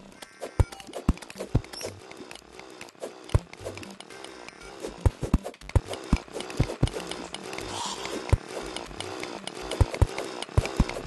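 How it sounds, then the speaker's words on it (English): Mithril drill mining in Terraria, a harsh buzzing grind with sharp percussive hits of blocks breaking at an irregular rhythm, layered with game music and effects. "The mithril drill."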